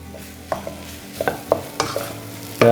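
Chicken pieces stirred and mashed with a spoon in a pan for chicken puttu biriyani: a series of distinct scraping and knocking strokes against the pan, irregularly spaced over a low sizzle, close and fairly loud, with a heavier clatter at the end.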